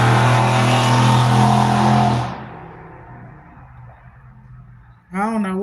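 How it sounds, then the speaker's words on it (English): A loud, ragged old car roars past close by, its engine noise dominating for about two seconds before fading into the distance, with a brief voice cutting in at the end. "I don't know what kind of loud ass raggedy car that was."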